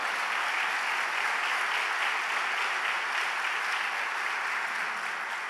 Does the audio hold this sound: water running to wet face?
no